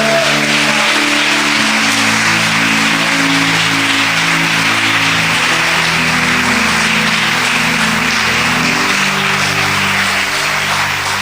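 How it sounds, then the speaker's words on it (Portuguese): A church congregation applauds in a steady, dense wash of clapping that lasts throughout, loud and sustained over sustained music tones. "Quantos podem dar glória a Deus e um aplauso ao Senhor aqui neste lugar?"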